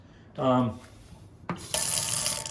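A kitchen tap runs, first in a short gush and then in a steady hissing stream of water into a sink, fairly close, with a brief voice just before the flow.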